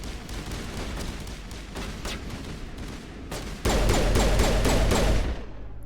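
Enemy gunfire in the video game Mass Effect, with repeated bursts of shots in a firefight. A louder, denser volley of rapid fire starts partway through, then cuts off.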